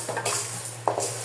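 Lentils being stirred and slowly fried in a pan, a short burst of scraping and a sharp metallic clink of a utensil over a low background sizzle.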